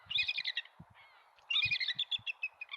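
Bald eagle cries come as two bursts of high, chattering piping notes, close and fairly loud, separated by a short pause, with a few soft low knocks underneath.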